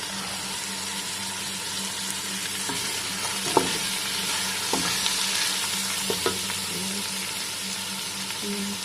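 Mutton frying in a pot, a steady close hiss of sizzling with a few soft knocks and scrapes of a spoon, moderately quiet and with no talking.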